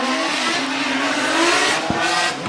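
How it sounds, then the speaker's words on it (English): Drift race cars battling at Formula Drift Japan, a Toyota GR86 leading with a BMW Z4 chasing, engines roaring steadily at high revs with a tire screech, loud and close throughout. "GR86 in the lead, and we got Akito Hanawa in the TGR Racing with Good Ride"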